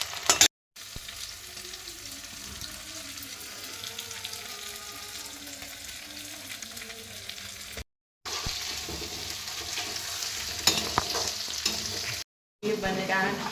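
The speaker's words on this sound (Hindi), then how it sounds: "अब इसको भून लेंगे। ये प्याज भून रहे हैं" Onions and cauliflower for a potato sabzi sizzle steadily as they fry in a pan, with soft stirring scrapes throughout and a few short silent gaps.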